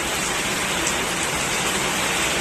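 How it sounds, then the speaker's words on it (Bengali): Heavy rain pours down steadily in a dense, continuous broadband hiss, close and loud with no breaks or voices. "ভাবতে পারিনি যে এত জোরে বৃষ্টি আসবে"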